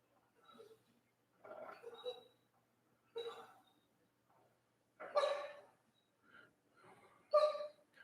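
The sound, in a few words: dog whimpering while dreaming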